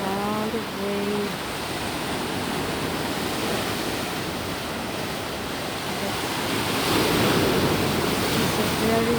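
Surf rolls steadily onto a beach, a dense hiss of breaking water that rises near the end, with a faint voice briefly audible at the start.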